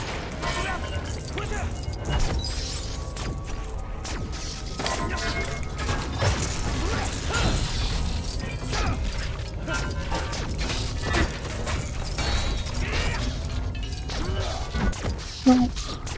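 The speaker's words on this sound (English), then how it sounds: "And now we start smashing some stuff." Objects are smashed in the LEGO Marvel Superheroes 2 video game, with repeated shattering crashes and clattering thwacks running continuously, some talking mixed in throughout.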